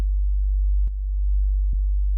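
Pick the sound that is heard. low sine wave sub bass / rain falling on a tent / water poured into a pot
low sine wave sub bass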